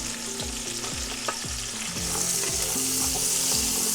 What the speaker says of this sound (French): Maintenant, je vais mettre les oignons que nous avons coupés en cubes, en carrés, quoi.